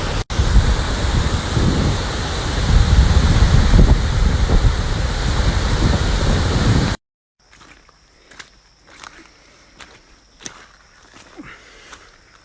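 A steady, loud roar of rushing water from the Upper Cascades waterfall in Litchfield National Park fills the first half, then gives way to a much quieter scene with scattered faint clicks.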